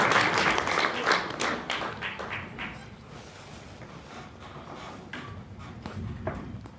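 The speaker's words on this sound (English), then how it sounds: "Can you please give them a last round of applause?" Audience applause at a women entrepreneurs' conference panel, loudest at the start with sharp claps, then thinning into scattered, softer clapping and a few taps.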